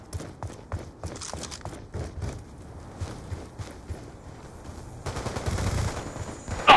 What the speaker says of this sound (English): Scorpion, full auto, rapid fire